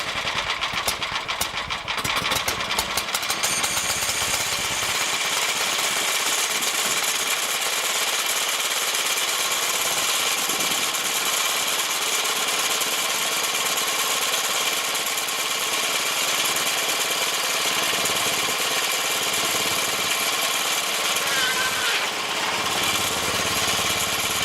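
A rebuilt racing kart engine starts on its first test with the choke on, sputtering briefly and then running loud and steady at close range throughout.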